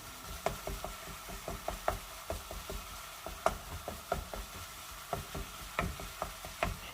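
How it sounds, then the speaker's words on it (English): Ground meat broken apart with a utensil and browning in a pan, quiet steady sizzle punctuated by many irregular clicks and scrapes of the tool against the pan. "now I'm just going to break apart the meat and cook well"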